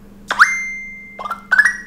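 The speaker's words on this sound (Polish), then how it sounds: "To jest domyślny dzwonek i świst wiadomości." Default Facebook Messenger message notification tone, a short bright chime with a sustained ringing tail, followed by two quicker chime bursts, clear and alone over a faint steady hum.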